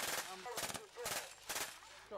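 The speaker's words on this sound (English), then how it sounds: "As you can see, that Browning is a very reliable weapon indeed." Browning machine gun firing at a WW2 battle reenactment, several sharp rattling bursts in rhythmic succession, loud and fairly close, with faint voices in between.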